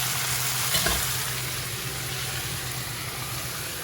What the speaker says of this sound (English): I'm gonna put the pork in the back pan, and then when the meat's brown, we'll brown the tofu last